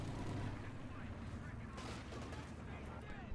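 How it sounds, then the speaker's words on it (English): Artillery counterfire in the video game Company of Heroes 2, a steady low rumble of distant booms and shelling throughout, with a slightly sharper burst near the middle. "So, essentially, this artillery is countering this artillery."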